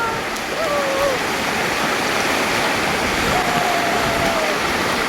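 Bendewadi waterfall near Lonavala roars in a loud, unbroken rush of falling water heard up close, with faint voices now and then over the steady wash.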